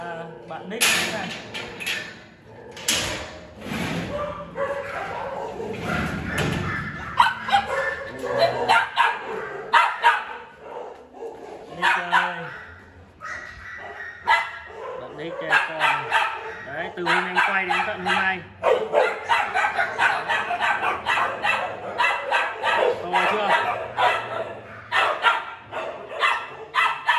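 Several dogs bark and yip repeatedly in kennels at a poodle breeding farm in Lâm Đồng, loud and close, with people talking over and between the barks throughout.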